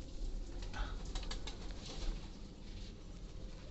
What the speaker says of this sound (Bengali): ঘরে অনেকগুলো কবুতর আছে, কবুতরের বাচ্চা আছে